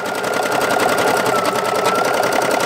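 A machine embroidery unit stitches a design with a steady, fast mechanical whir and needle rhythm that runs loud and unbroken throughout, with no talking.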